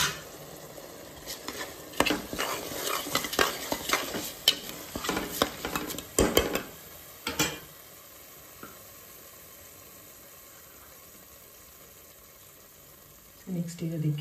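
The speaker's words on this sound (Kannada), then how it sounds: "ನೆಕ್ಸ್ಟ್ ಅದಕ್ಕೆ ಹೆಸರುಬೇಳೆನ ಹಾಕಿ ಮಿಕ್ಸ್ ಮಾಡಬೇಕು." Washed rice and moong dal are stirred together in a pot, giving close scraping and shuffling of a spoon against metal for several seconds, then a quieter stretch; someone speaks over the stirring.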